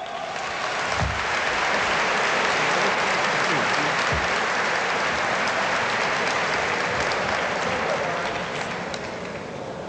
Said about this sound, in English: Let's bring him on with a warm, happy Savior's Day round of applause.